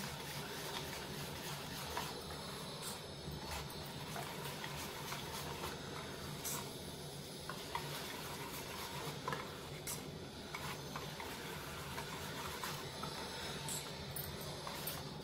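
Semolina cupcake batter mixed with a cup of milk by hand in a bowl, a steady scraping and stirring texture that runs throughout with small clicks of the utensil against the bowl, close up and with no talking.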